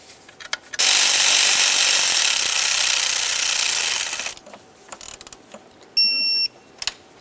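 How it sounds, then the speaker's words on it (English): Throttle body mounting bolts tightened on a 2006-10 Ford Explorer: a loud, continuous mechanical whirr lasting about three and a half seconds, then scattered small clicks and a short electronic beep, no speech. "we're going to torque each of these to 80 inch-pounds"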